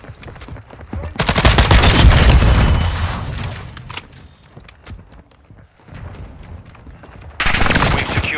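Bursts of FTAC automatic rifle fire in a multiplayer shooter video game, loud sustained volleys at the start and end with quieter scattered shots between.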